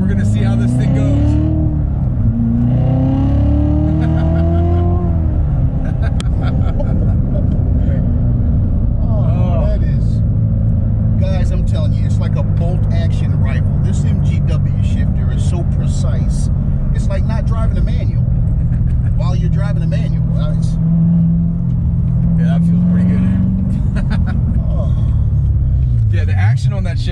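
A C7 Corvette Z06 engine driven on the road through gear changes with an aftermarket shifter: loud, close, deep exhaust rumble whose pitch climbs, drops at each shift and climbs again, with continuous road and drivetrain noise throughout.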